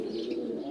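Pigeons coo in a low, soft, continuous murmur, faint and somewhat distant, with no talking over it.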